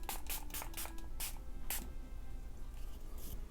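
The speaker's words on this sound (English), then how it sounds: "And I'm going to use my Slay All Day setting spray by Gerard Cosmetics." Rapid bursts of Gerard Cosmetics Slay All Day setting spray misted from a pump bottle, about six quick hissing puffs close up, then a pause and one more spritz.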